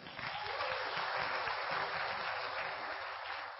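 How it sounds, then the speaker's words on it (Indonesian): An audience applauds a couple with steady, dense clapping that holds for several seconds from start to finish, with no talk over it. "Mohon aplaus untuk pasangan luar biasa,"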